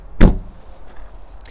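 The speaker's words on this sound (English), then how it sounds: "So opening up the driver's door" A single sharp clunk as the driver's door of a Ford Puma ST-Line X mild hybrid is opened, followed by faint interior clicks.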